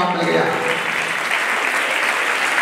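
An audience claps during a religious discourse by a Jain monk, with steady applause filling the space while a voice speaks over it.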